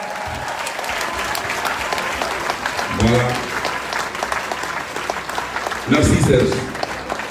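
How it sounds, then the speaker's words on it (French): A crowd at a gathering of the African and Ivorian diaspora in Paris applauds steadily, with louder bursts of clapping and cheers, while someone speaks French over it. "Il faut l'applaudir jusqu'à ce qu'il arrive ici,"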